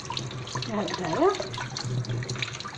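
Tap water runs while a sheep's head is washed, a steady wash of water under a voice speaking close by.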